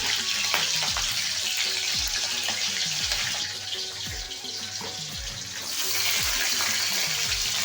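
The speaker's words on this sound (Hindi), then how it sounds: "मिर्ची मल्ला तल के निकाल दे यहाँ पे सबसे पहले मिर्ची डाले हवा" Green chillies deep-fry in hot oil at a street food cart, giving a steady, loud bubbling sizzle with a watery rush that eases slightly midway, punctuated by faint clinks, with no talk.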